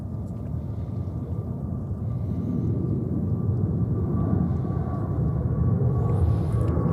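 A JetBlue airliner passes at JFK airport in winter, a low broad rumble that slowly swells louder and stays steady, heard from a distance outdoors.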